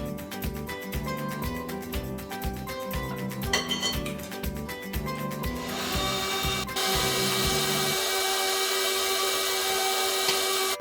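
An electric stand mixer beats lemon loaf cake batter with a loud, steady mechanical whir and a rhythmic knocking churn that shifts to a smoother, higher drone partway through.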